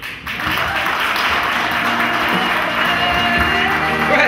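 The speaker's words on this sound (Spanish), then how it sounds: "Fuerte el aplauso para ellas" Applause at a quinceañera candle ceremony, a steady dense clapping from a party crowd lasting the whole stretch, with some voices mixed in.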